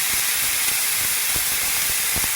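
Smash burger patty pressed flat on a hot griddle, seasoned with salt and pepper, giving a loud, steady hiss of sizzling fat with scattered soft pops and thuds, no voices.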